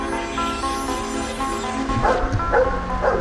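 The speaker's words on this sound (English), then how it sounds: "Noddy, the sniffer dog" A police sniffer dog called in to check a car during a traffic stop gives a few loud, close barks and yips in its second half, following a steady whining tone.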